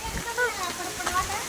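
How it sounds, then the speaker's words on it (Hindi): Heavy rain pours down outdoors in a steady hiss, with splashing bursts and a person talking over it. "बहुत तगड़ी बारिश आ गई।"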